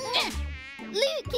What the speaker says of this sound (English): Those mosquitoes are sneaky.